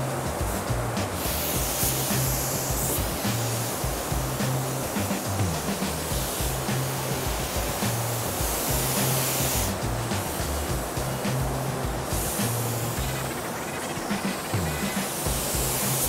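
A spray gun applies sealer to a classic Ford Bronco in a truck paint shop, giving a steady broadband hiss that runs unbroken, loud and close, with a low mechanical drone beneath.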